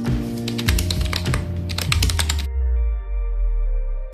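Typing on a computer keyboard in a text editor, a close, brisk run of clicking keystrokes over a low hum that stops abruptly halfway, leaving only the hum.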